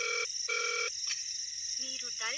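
An electronic mobile phone ringtone plays in bursts of bright beeping tones, followed by a short rising melodic phrase, steady and fairly close against faint background noise.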